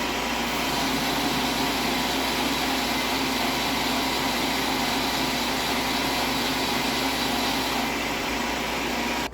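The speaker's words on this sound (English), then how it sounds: "let's get the lathe flashed up and start taking some cuts" A metal lathe running steadily while cutting a dually wheel spacer, giving a continuous broadband machining whir with a constant motor hum, loud and uninterrupted, with no talking.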